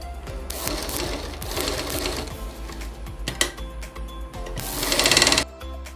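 A sewing machine stitches a kitchen apron up close in rapid mechanical bursts of needle clatter. It pauses and restarts, then gives a louder, faster run near the end, with no talking.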